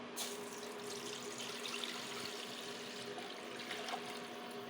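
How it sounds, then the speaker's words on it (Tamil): Steady water trickling and splashing into a cooking pot, a continuous soft liquid wash with a low hum underneath, fairly quiet and uninterrupted. "அடுத்த தண்ணி எடுத்து அதை ஊற்றிக்குவோம்"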